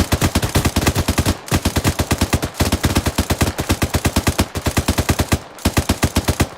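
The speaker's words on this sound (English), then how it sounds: "Rapid fire." Rapid automatic gunfire in the military video game ArmA 3, loud and close, in long sustained bursts with brief pauses between them.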